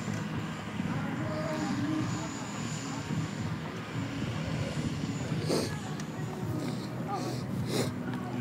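Engine of a Hangar 9 P-47D scale model airplane running steadily at a flying field event, a continuous moderately loud drone with a few brief higher-pitched bursts near the end.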